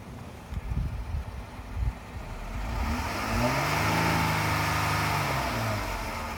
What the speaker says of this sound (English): I'm gonna rev up the motor so you can hear how it sounds